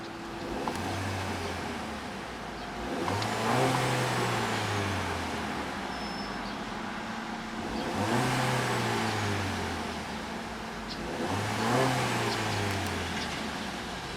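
A 2012 Volkswagen Golf TSI engine, in park, revs up and falls back four times in repeated surges, each climbing to a loud roar before dropping back to a steady idle.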